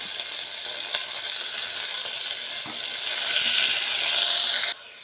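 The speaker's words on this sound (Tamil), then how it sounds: "தக்காளி போட்டு நல்லா வணக்குங்க" Tomatoes and mint sautéing in a pan for vegetable biryani, a dense, loud, continuous sizzle with faint stirring, close up, swelling slightly before cutting off near the end.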